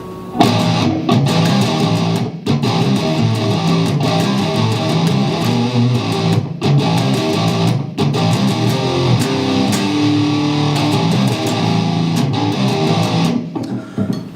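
Distorted electric guitar riff with sliding notes and a shaken vibrato, played steadily and loudly with a few brief gaps.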